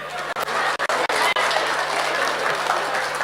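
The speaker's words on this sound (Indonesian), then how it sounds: "Oke, tepuk tangan dulu buat kalian." Audience applause fills a small, cramped stand-up comedy venue at Galeri Indonesia Kaya, a dense steady wash of clapping from a close crowd lasting the whole moment with a few brief dips.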